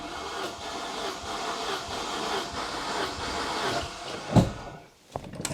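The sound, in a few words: Saab 900 Turbo engine cranking during compression test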